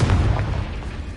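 A Bombarda spell blast in Hogwarts Legacy, a loud, heavy boom with a deep rumbling low end that holds steady and then fades slowly over about a second, with no one speaking.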